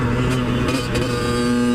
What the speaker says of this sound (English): this is the dirt bike I grew up on